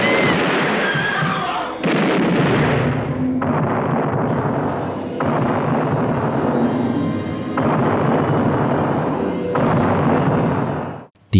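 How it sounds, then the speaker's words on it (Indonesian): Gunfire in a film scene as a woman shoots the men in a place one by one: loud, dense booming shots in repeated bursts over about eleven seconds, with a heavy rumbling tail and no talking. "Satu persatu pria di tempat ini dia tembak."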